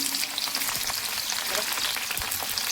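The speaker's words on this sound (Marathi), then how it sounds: "वांगी लालसर तळून घ्यावं चांगलं" Eggplant pieces sizzle and crackle in hot oil, a close, continuous frying hiss with scattered pops and a few stirring clinks, with no voices.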